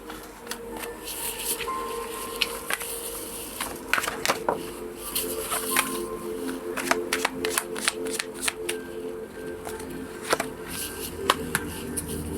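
Oracle cards are shuffled close up throughout, a steady run of quick, crisp riffling bursts and soft slaps during a Thai card reading, with no talking.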